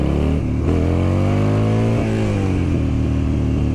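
A Buell motorcycle accelerating hard on a street, its engine note climbing and dropping through several loud gear shifts, close and steady with no talk.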